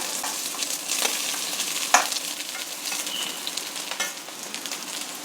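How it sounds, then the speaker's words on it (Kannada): Cooked semolina (rava) being added to a pan and stirred while making upma, giving a steady soft sizzle with scraping stirs and a sharper clink near the start, no talking. "ಬೆಂದಿರೋ ರವೆ ಇದನ್ನು ಸೇರಿಸ್ತಾ ಇದ್ದೀನಿ"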